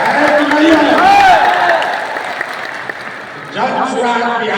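A crowd at a Jan Suraaj political rally in Bihar breaks into applause, clapping swelling and then fading beneath a man's amplified speech that continues over it.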